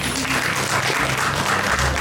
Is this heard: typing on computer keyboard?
no